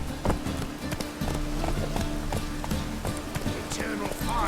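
Roach the horse gallops in The Witcher 3, hooves clip-clopping in a steady, fast rhythm close by, under game music and effects with occasional voices.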